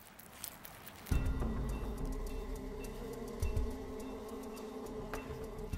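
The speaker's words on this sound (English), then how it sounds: "During the summer, the giant hornets constantly seek out food." Giant hornet buzzing steadily while foraging in summer near a honeybee hive, a close, continuous insect drone that starts abruptly and holds at a loud level.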